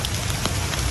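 Steady rain falls loud and close during a mountain hike on Mt. Manabu, a dense continuous hiss with no talking.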